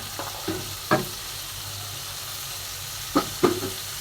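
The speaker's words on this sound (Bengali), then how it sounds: "তো এখন এই পেঁয়াজের কলিটা দিয়ে দিচ্ছি।" Onion stalks, freshly washed, sizzle steadily in a frying pan over medium heat. A few sharp clatters of stirring interrupt the hiss, with no talk over it.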